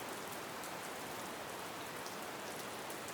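Steady rain falls continuously, a dense, even hiss of drops with no talk and no pauses.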